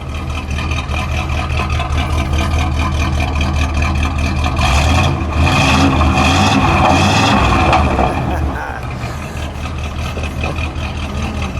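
A 1974 Oldsmobile Delta 88 Hurst/Olds pace car engine idles loudly and steadily nearby, swelling briefly in a revving surge midway before settling back to an even rumble.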